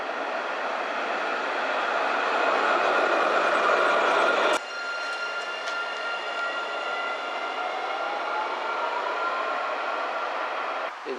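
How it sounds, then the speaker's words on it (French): An Alstom Citadis tram on Lyon's T3 line runs with a steady rolling rumble and hum, which drops abruptly partway through before continuing at a lower, even level with faint high squeals, no voices. "le tramway qui est utilisé à Lyon, c'est surtout des rames d'Alstom, c'est que des rames d'Alstom, des Citadis"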